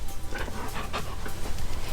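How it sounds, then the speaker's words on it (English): A dog pants steadily and close by in a home, quick rhythmic breaths running through the whole moment with no talk over them. "This is my dog."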